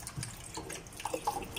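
Tap water runs over ginger being washed at a kitchen sink, a short broken splashing with a few brighter drips and spatters near the end, close by with no talking.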